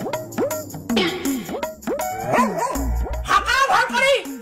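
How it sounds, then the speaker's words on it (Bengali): A foreign-breed pet dog barks and yips in a rapid repeated series, loud and close, with a person talking over it. "এমনি মোর বিদেশি কুকুর"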